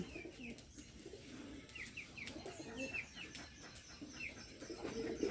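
Bombay pigeons coo repeatedly in a loft, several birds calling close by with soft, rhythmic low coos layered over a busy background of other birds chirping.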